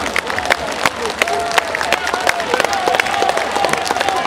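Audience applause for musicians at an outdoor town-days concert in Radomsko, a dense sustained patter of many hands clapping with crowd murmur and a few cheers, steady and loud throughout.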